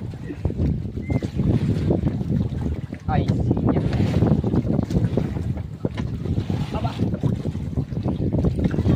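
Strong wind buffets the microphone in heavy gusts while fishing at sea, with people calling out and talking over the roar throughout.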